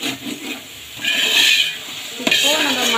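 Tomatoes frying in oil in a pan for chicken biryani, with a steady close sizzle and a brief stir or utensil knock partway through, no one talking.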